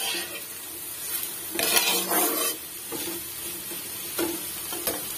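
Potatoes being stir-fried in a pan, with steady sizzling broken by scraping and clinking strokes of a utensil against the pan at irregular intervals, close and moderately loud.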